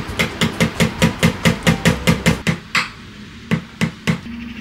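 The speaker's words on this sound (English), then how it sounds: "So now I'm gonna have to get a hammer." Steady, rhythmic hammer strikes ring out close by, about a dozen evenly spaced blows that slow and thin out into a few scattered hits.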